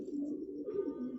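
Pigeon cooing softly nearby, a brief, low, throaty coo lasting about a second, faint and alone.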